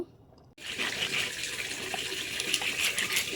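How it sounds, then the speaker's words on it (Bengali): Tap water suddenly gushes on after a brief quiet and keeps running steadily while hilsa fish is washed under it, close and constant. "এখানে ইলিশ মাছটাও আছে এটাকেও ভালো করে পরিষ্কার করে ধুয়ে নেব"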